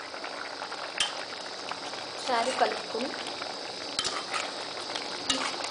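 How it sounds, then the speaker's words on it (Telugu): An egg, drumstick and tomato curry bubbles and simmers in a pan, a soft continuous boil with a few utensil clinks, while a person talks over it. "బాగా దగ్గరగా అయ్యే వరకు ఇంకా ఉడకనివ్వాలి."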